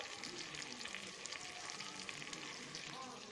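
Cumin seeds fry in a pan of hot oil among cooking meat and potatoes, giving a steady, close crackling sizzle that holds constant throughout, faint but clear.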